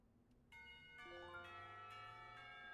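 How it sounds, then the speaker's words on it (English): A school lunch bell in the visual novel Katawa Shoujo rings out in several bright, sustained bell tones that stack and linger, with no voices. "The lunch bell rings"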